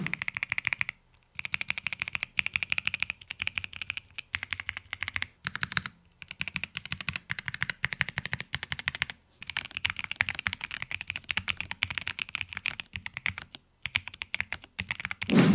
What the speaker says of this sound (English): As for the sound of the keyboard, it's not bad.